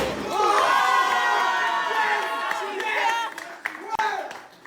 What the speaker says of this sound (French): Applaudissements, les gars.